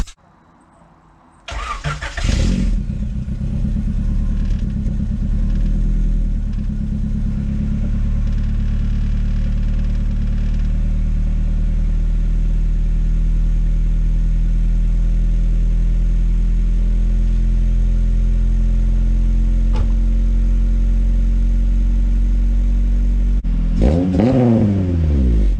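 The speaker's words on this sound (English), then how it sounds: "I'd give you a little cold start, a couple of revs" A sedan's engine cranks and catches on a cold morning, then settles into a loud, steady idle for about twenty seconds before a short burst of revving near the end, close to the microphone with no talk.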